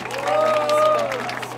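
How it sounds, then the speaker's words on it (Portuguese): A crowd at a Brazilian freestyle rap battle semi-final claps and cheers, a busy burst of applause with a sustained voice or whistle-like tone running through it. "palmas pra batalha"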